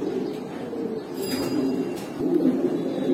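A pair of black Baghdadi homer pigeons coo close by in low, throaty rolling phrases, two main bursts with a short pause between, no talk over them.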